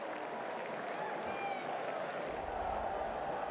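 Large cricket stadium crowd at a night T20 international between New Zealand and Australia, a steady, dense wash of cheering and applause with no pauses.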